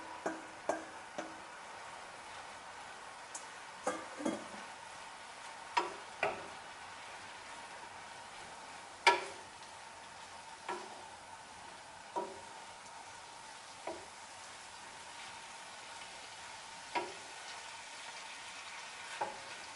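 Leek stirred into browned beef in a pan for sukiyaki don, a steady soft frying sizzle broken by regular sharp clicks and scrapes of a utensil against the pan, with no talking.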